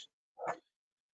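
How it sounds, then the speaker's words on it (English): Dog barking outside, a single short muffled bark after a faint clipped sound at the very start, with silence around it. "What are you barking at?"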